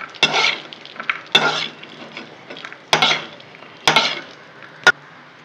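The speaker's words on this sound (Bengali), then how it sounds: "আর কিশমিশ ভেজে নেব।" Raisins frying in a pan for chira polao, a sizzle broken by several sharp stirring scrapes and clinks of a spatula against the metal, close and fairly loud, no voices.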